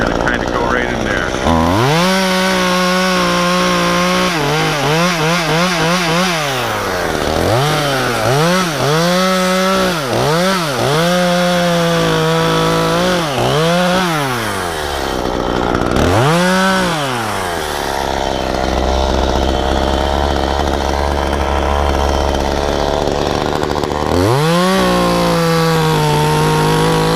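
A chainsaw cuts into a maple during removal of a 70-foot tree between two buildings, its engine loud and close, revving up and down in repeated surges with brief idle dips between cuts.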